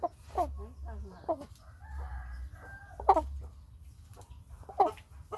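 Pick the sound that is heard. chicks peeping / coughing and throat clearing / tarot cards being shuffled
chicks peeping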